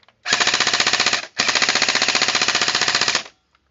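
A PTS Centurion Arms CM4 airsoft rifle with a recoil system firing on full auto, two rapid mechanical bursts of evenly spaced clacking shots close up, a short one then a longer run of about two seconds, with no voices.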